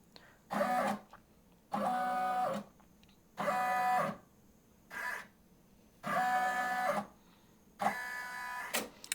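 An embroidery machine in trace mode drives its hoop around the design outline in five separate whirring motor bursts of about a second each, with short quiet gaps between them, heard close up.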